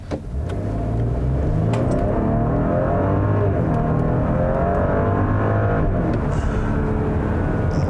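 A 2020 Porsche Cayenne with the base 3-liter single-turbo V6 pulls away from inside the cabin, the engine note building into a sustained, rising growl that stays steady and fairly loud, with no talk.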